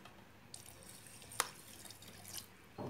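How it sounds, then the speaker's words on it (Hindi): Cold water from the fridge poured into pomegranate juice, a soft dripping, trickling flow with a sharp splash near the middle and a brief louder pour at the end, quiet and close with no talking. "अब इसमें फ्रिज का ठंडा पानी डालेंगे थोड़ा सा"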